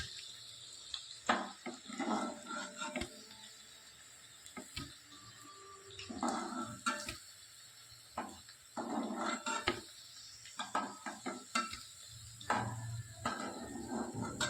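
Veg manchurian balls frying in hot oil in a pan and being lifted out, a steady close sizzle broken by irregular clattering scrapes and knocks of the utensil against the pan.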